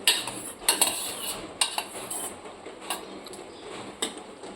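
A spoon stirs boiled corn into gravy in a metal pan, with irregular close clinks and scrapes against the pan over a low kitchen background.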